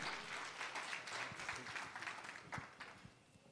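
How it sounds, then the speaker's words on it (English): Audience applause at a post-budget business breakfast, a sustained crowd of clapping hands heard from a distance, steady and gradually tapering toward the end. "Can we give him a round of applause, ladies and gentlemen?"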